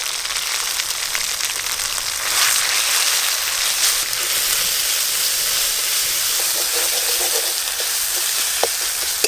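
Cumin paste and green chili paste fry in a pan of hot oil with bay leaves for a Bengali fish curry, giving a steady, close sizzle and hiss that runs throughout with a few brief crackles.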